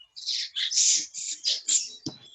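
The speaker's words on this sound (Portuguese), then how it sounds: "Esse barulho de passarinho." A small bird chirps in a quick series of bright, close tweets with short gaps between them, ending in a sharp final click.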